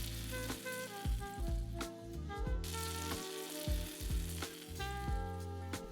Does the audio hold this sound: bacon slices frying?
yes